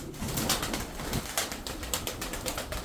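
Tumbler pigeons from Kırşehir coo in low, soft bursts close by, with repeated sharp wing flaps and rustling breaking in at irregular intervals.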